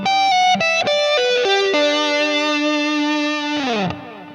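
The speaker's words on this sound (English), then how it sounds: "the phrase sounds smoothly once I add distortion and effects." An electric guitar plays a short, sustained melodic phrase through heavy distortion, ending on a long held note that slides down and cuts off.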